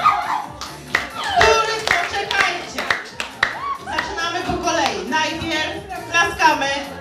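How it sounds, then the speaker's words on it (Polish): Audience at a school Boys' Day celebration claps to vote for a contestant, bursts of clapping mixed with loud talk, shouts and voices throughout. "wybieramy my publiczność oklaskami"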